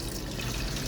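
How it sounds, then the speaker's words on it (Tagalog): Beans rinsed under running tap water in a kitchen, a steady close splashing gush of flowing water for just under a second. "So atin lang huhugasan hanggang sa maging clear yung tubig."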